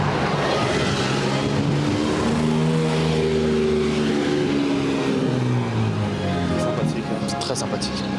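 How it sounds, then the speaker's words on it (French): A Porsche drives past on a Swiss road near Andermatt, its engine note rising and falling as it passes close by, heard from inside a moving car under steady road noise. "petite Porsche"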